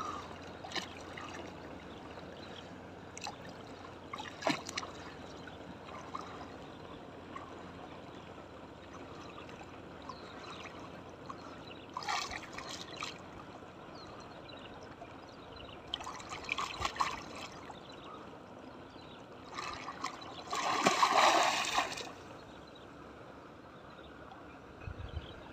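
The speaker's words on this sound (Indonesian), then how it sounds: "Arusnya deras dan sungainya pun dalam" A swift, deep river current runs near a house at high water, giving a low, continuous rushing wash with scattered splashes and a louder burst of water noise toward the end.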